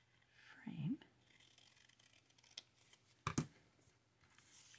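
Scissors cut paper for a junk journal, with a few short, quiet snips and a sharper double snip near the end, under soft whispered talk and desk rustling.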